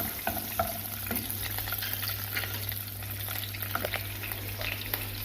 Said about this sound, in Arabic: زبده وشويه زيت باش نقلي الخضره